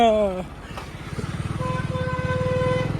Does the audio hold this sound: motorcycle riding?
yes